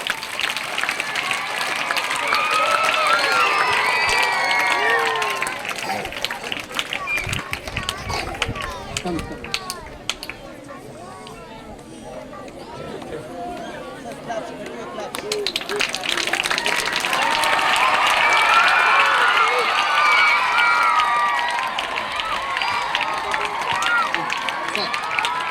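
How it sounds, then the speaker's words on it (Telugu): Crowd applause at a Republic Day event swells loudly, dips into a quieter stretch of scattered clapping and voices, then surges again into dense, sustained clapping. "ఇంకా క్లాప్స్ కొట్టండి."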